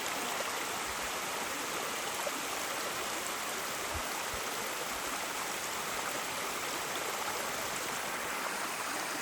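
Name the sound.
small waterfall in a mountain creek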